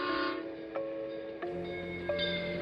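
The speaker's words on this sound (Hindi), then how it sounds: "ट्रेन छूट रही है।" Train horn sounding on a railway track in a station as the train pulls out, a sustained tonal blare with short breaks and a lower second tone entering partway, steady and fairly loud with no talk.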